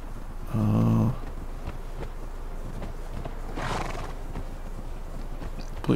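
A horse in the Conan Exiles video game gives one short, loud snort or whinny near the start, followed by soft hoof movement and a faint swell of ambient game noise.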